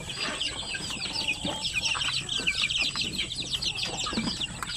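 Chicks and hens cluck and peep steadily in a coop where a batch of chicks hatched together, a dense chorus of high chirps over lower clucks with no pauses throughout.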